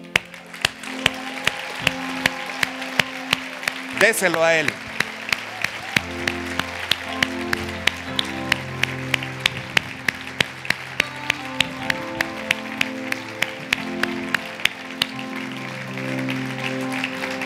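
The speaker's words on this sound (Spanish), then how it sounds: "ese aplauso es porque terminé rápido" Applause from a church congregation during a Spanish-language service, with steady rhythmic claps running through the whole stretch over music, and a brief spoken phrase partway through.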